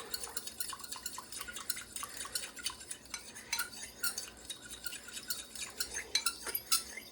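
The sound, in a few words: stirring pudding mixture in a bowl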